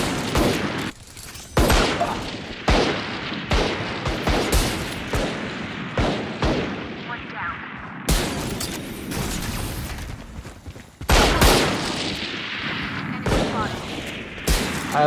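Gunfire in the shooter game Valorant, with a weapon's heavy recoil: loud, rapid bursts and sustained automatic fire repeat through the clip, with short pauses between strings of shots.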